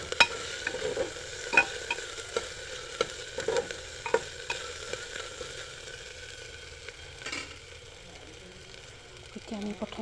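Onions fry and sizzle in a pan for a Assamese taro-leaf and dried-fish dish, with a steady hiss under intermittent scraping and stirring clatter; a few faint voices occur.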